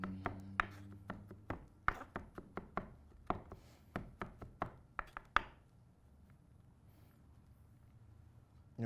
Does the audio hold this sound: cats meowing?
no